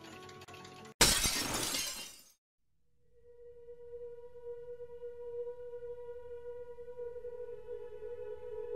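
A glass-shattering sound effect bursts in loudly and sprays fragments for about a second, then cuts to silence before a sustained, ringing tonal drone rises and holds.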